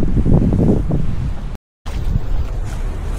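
Strong wind on a hilltop trail at Jardine's Lookout, Hong Kong, buffets the microphone in heavy low roaring gusts, cut by a brief silent gap before the blustery rush resumes.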